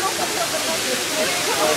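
A large waterfall in Puerto Rico roars as a steady, broadband rush of falling water, loud and close, with no break in the wash of sound.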